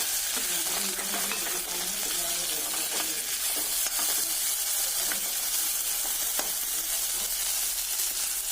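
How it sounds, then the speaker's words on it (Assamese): Cubed potatoes fry in a pan while a spatula stirs and scrapes them, a steady close sizzle with repeated scraping strokes and no talk. "মাজে মাজে ইয়াতে হেতা সহায়ত লৰাই থাকিব লাগে,"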